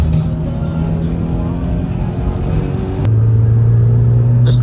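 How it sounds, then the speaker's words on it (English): Toyota FRS driving on a wet street, a steady low engine rumble and road noise close up, with the engine note dropping to a lower drone partway through as if shifting. "are you really driving the car without drying it?"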